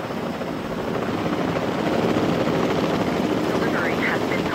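Several helicopters transporting assets in the video game Jurassic World Evolution 2, a steady, loud rotor and engine drone that holds for the full stretch with a voice speaking over it.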